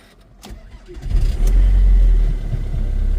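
A Jaguar X-Type 2.0 diesel engine cranks briefly on a jump starter without a battery at +3°C and catches, then settles into a loud, steady idle close by.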